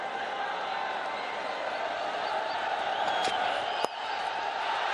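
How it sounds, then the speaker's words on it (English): A cricket stadium crowd at a Bangladesh–Pakistan match keeps up a dense, steady roar throughout, with a brief sharp shout near the end rising above the wash of noise. "the crowd is roaring"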